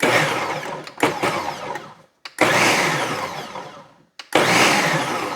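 A food processor pulsing while preparing vegetable biryani, three loud bursts of whirring and chopping separated by brief silences, close up.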